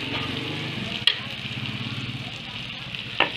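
Bitter gourd leaves and sardines sizzle and fry steadily in a pan, a close, continuous crackle broken by two sharp clinks of a utensil against the pan.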